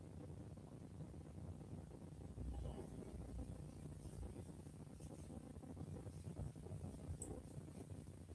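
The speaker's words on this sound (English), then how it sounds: "it's windy. I can hear everything blowing away there" Steady low wind rumble buffets the microphone throughout, with faint broadband noise and no voices.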